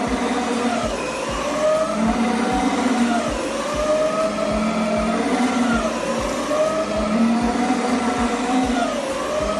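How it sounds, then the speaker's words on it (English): A carpet cleaning machine agitates carpet pile with a steady, loud motor drone whose pitch swells and dips rhythmically as it is worked back and forth, close up and continuous with no talking. "Agitating the carpets will suspend the soil, lifting it to the top of the pile ready to be extracted."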